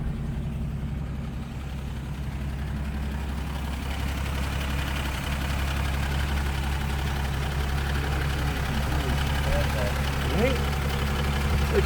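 A 1941 Studebaker Commander straight-six idles in neutral, a steady, quiet low rumble with a faint even ticking, holding constant throughout while people talk nearby.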